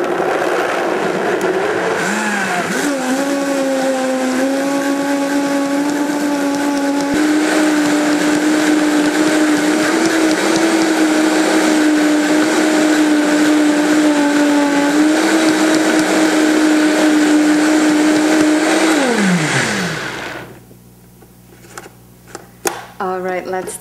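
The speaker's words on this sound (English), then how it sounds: "Now you're ready to close the blender and just blend it." A blender runs steadily for about twenty seconds, whirring as it grinds nuts into nut milk, with a brief rising start, a loud even drone, then a spin-down and a few faint clatters after it stops.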